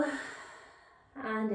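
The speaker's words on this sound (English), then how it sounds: "Inhale and exhale." Slow breathing in and out during a yinyasa yoga session, a soft drawn inhale fading away, then a fuller exhale starting near the end, close and clear.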